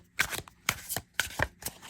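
Chunky, oversized tarot deck being shuffled by hand: four crisp riffling bursts at a steady pace, close and fairly quiet, with no voices.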